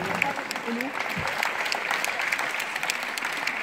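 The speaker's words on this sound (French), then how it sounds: "On peut applaudir encore les musiciens." At a live concert in the Nogaro arena, the audience applauds the musicians with dense, sustained clapping, while a voice speaks briefly near the start.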